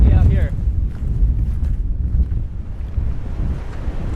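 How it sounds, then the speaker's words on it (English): Strong wind blasts against a sea cliff by the ocean, a heavy, constant low roar and buffeting rumble close on the microphone, with a brief voice-like sound at the start. "Oh, it is really windy out here."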